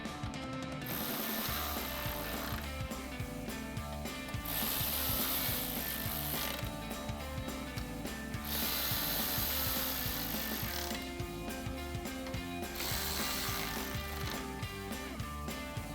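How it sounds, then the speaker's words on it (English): Ratchet and 10mm socket tightening bolts on a 2009-2018 RAM 1500 during a headlight install, a repeated mechanical clicking and grinding cycle that comes in several bursts, close and steady, with no talking. "we'll tighten down the 4 bolts with our 10mm socket"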